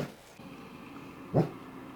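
A shepherd dog lets out a single sharp bark indoors at a house, close and fairly loud, with quiet room sound before and after.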